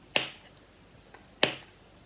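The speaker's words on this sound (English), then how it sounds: "First is this snapper. I really like this sound." A snapper fidget toy gives two sharp, close snapping clicks about a second apart, with a faint tick between them.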